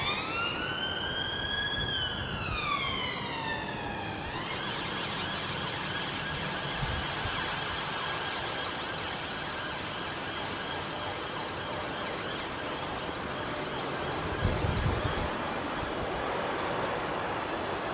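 Emergency vehicle sirens wail loudly at an airport in London, first rising and falling, then holding a steady blaring tone against a dense roar of background noise.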